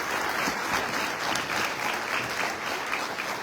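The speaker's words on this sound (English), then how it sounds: "Let's give our 2 candidates for our ISD board a round of applause." An audience at a 2024 Chamber of Commerce candidate forum for the Kilgore school board claps for the candidates, a dense, steady round of applause lasting the full few seconds with no speech over it.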